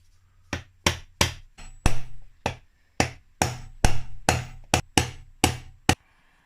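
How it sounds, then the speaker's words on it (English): Rivets on a motorcycle clutch are hammered over with about fifteen sharp, close, loud hammer blows at an uneven, fairly quick pace, each with a short ringing decay. "then banging the rivets back down"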